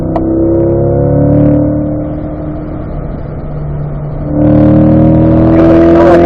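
A Corvette C8 Stingray accelerating on a track, its engine a loud, close, steady drone that eases briefly and then surges again with rising pitch as it pulls harder, with no talking.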